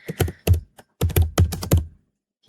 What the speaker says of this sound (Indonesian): Di sini kita disuruh ketik config T lagi.